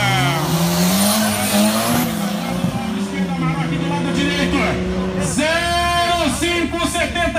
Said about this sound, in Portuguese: A BMW Up saiu patinando aqui, levou a melhor lá